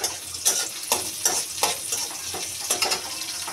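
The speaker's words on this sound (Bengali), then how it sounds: "এখন আমি ডাল বাগারের জন্য তেল পেঁয়াজ বসিয়ে দিচ্ছি কড়াইতে," Sliced onion frying in oil in a wok for a dal tempering, with cumin to follow, giving a steady close sizzle broken by regular rhythmic scrapes and stirs of the spatula.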